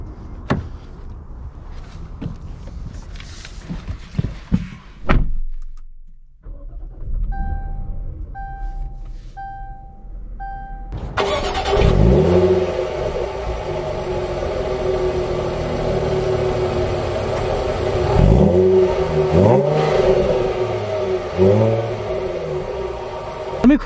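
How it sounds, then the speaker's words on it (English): A 2020 Jaguar F-Pace S: faint cabin sounds and a door, electronic chimes, then the engine fires up loudly and settles into a rumbling idle with a few revs as it pulls away. "let's take this F-Pace S out and see how it drives"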